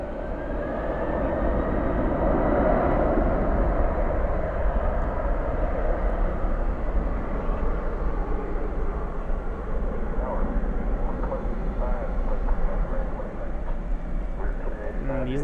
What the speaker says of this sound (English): This one off to Louisville, flight 751 for UPS.